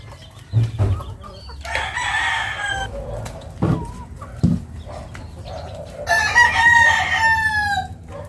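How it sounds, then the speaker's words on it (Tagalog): Nearby chickens cluck in short bursts while a rooster crows twice, with a few thumps and shuffles in between. "Papakain natin sa manok kagaya nito"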